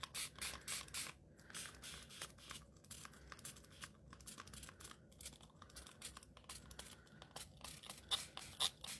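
Spray bottle misting paint onto a plastic craft mat in a short burst series, faint, close and hissy, with papery crinkling between sprays and no talking.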